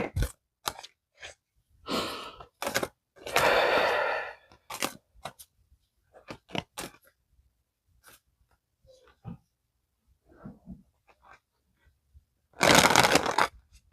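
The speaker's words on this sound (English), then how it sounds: "Just going to shuffle 3 times and then draw 3 cards" A deck of cards is shuffled three times in bursts of dense riffling and flapping, with quieter card handling and scattered taps between, close by at a card-reading table.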